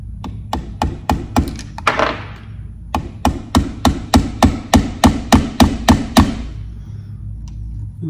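A hammer taps a small roll pin into a Colt Python revolver's sight during a sight install, about eighteen sharp, close metallic knocks, some irregular and then a steady run of evenly spaced strikes.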